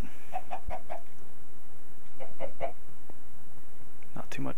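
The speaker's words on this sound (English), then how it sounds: "So I can hear the chicken, but he's not anywhere to be seen." Minecraft chicken from the FTB mod pack giving a few short, soft clucks in scattered bursts over a steady hiss of game ambience, fairly faint and spaced irregularly.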